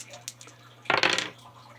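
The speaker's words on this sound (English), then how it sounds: "you take 2 dice and roll them." Two dice are rolled on a table for a charge during a Warhammer 40K tournament game, giving one short, close clattering burst that stops quickly in a quiet room.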